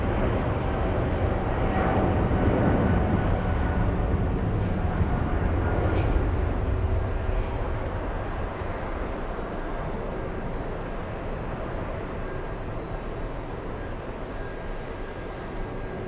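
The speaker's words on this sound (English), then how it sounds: "We have Virgin A350-1000 arriving, exiting the runway as we speak." Jet airliners taxi at a busy airport while a Virgin A350-1000 exits the runway, heard as a broad, distant engine roar that swells early on and then settles into a steadier, quieter rumble.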